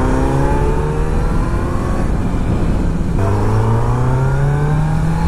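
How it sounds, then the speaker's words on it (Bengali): Kawasaki Z900 inline-four motorcycle engine accelerating on the road, a loud smooth whine rising in pitch, easing off briefly, then climbing again through another gear. "এই ইনলাইন 4-এর সাউন্ড যখনই অ্যাক্সেলারেট করছি, এত সুন্দর একটা মিষ্টি সাউন্ড বেরোচ্ছে না বাইকটা থেকে"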